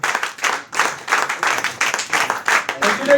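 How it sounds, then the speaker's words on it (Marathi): Audience applause at a Bhagavad Gita promotional training event, a sustained wash of many hands clapping that swells and dips in waves, fairly close and loud. "टाळ्या नाही थांबल्या पाहिजे, टाळ्या नाही थांबल्या पाहिजे"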